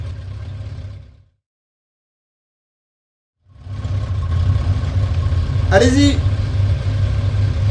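A motorcycle ridden for a chase-scene shot on a film set: after a short silence its engine rumbles in, steady, low and close, with a voice shouting briefly over it.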